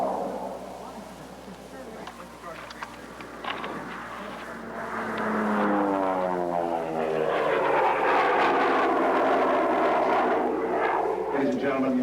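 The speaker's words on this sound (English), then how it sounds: "Let's watch and admire the only P-38 aerobatic demonstration in the world" Roaring piston engines of a P-38 grow louder as it swoops past during an aerobatic airshow demonstration, the pitch sliding and sweeping as it maneuvers, with an announcer talking underneath.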